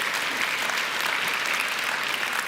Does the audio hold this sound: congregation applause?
yes